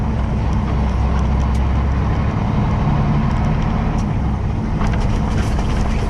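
A heavy truck engine drones loud and close for several seconds, a steady low rumble that climbs with the gears and carries some cab noise.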